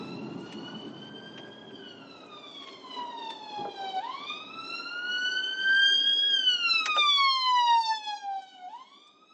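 A loud ambulance siren wails continuously on a road, its pitch sweeping slowly up and down in long glides, growing louder toward the middle before easing off.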